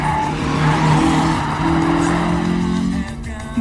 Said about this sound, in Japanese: あの86、ステアリングを使ってね、荷重移動だけで曲がってやがる。